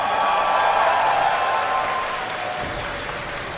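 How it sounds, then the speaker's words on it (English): An audience at a StarCraft 2 tournament applauds and cheers, a dense wash of clapping that peaks early and then gradually fades. "Give a cheer for Naniwa!"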